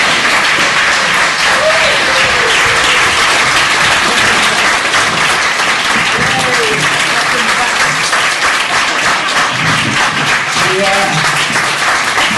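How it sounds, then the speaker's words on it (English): A live podcast audience applauds loudly and steadily as the hosts Collings and Herrin are welcomed onstage, with dense clapping filling the whole stretch and a few voices faintly audible over it. "Look at the sound of applause."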